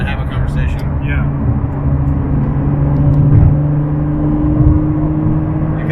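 Inside a 2019 Ford GT Heritage Edition cruising gently, road noise forms a steady low rumble and engine hum, with a driver and passenger talking over it.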